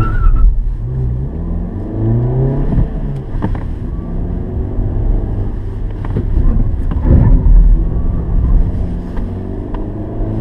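A 2017 Ford KA+ is driven hard on a timed lap, its engine droning loudly and steadily with shifting pitch as it accelerates, heard from inside under heavy wind rumble.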